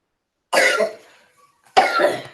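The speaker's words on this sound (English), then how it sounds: "Stop coughing in my face." Two harsh coughs, close and loud, separated by a short pause.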